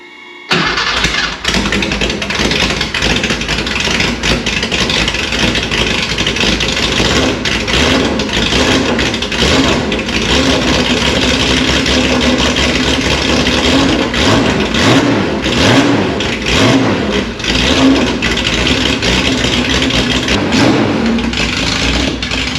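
A vintage Porsche 911 Targa engine cranks and catches, then settles into a loud, steady idle with small surges, running continuously and close by.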